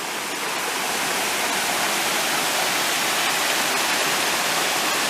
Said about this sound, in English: a nice little waterfall, though.